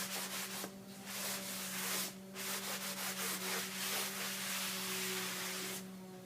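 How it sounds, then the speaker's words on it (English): Lint-free cloth wiping excess wax back off a textured DIY painted finish, a steady soft rubbing close by with a few harder strokes, continuous with no talking. "I am going to take my lint-free cloth and wipe it back just a little bit"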